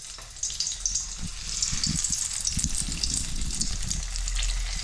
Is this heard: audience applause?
no